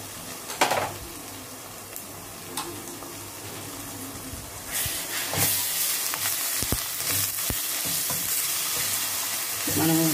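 Ginger garlic paste fries in hot oil with a little cumin in a pan, a close, steady sizzle broken by scraping stirs and a few knocks, growing louder and hissier midway; no talk.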